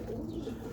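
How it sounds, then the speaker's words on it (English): Homing pigeons coo softly in a brief, low, murmuring burble at close range, faint and continuous. "These are just homing pigeons."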